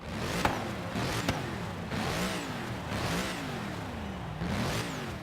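A Mercedes-AMG GT S engine in Forza Horizon 3 revs repeatedly, rising and falling in pitch several times with sharp gear-shift blips, steady and moderately loud, no voices.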